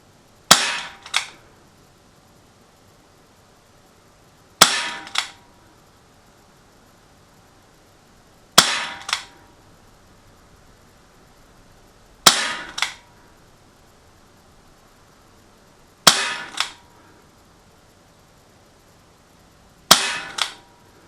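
A Gamo PR-776 CO2 .177 caliber pellet revolver fires six sharp, close shots at a 30-foot range, spaced about four seconds apart, each followed by a short rattle, with no talk between.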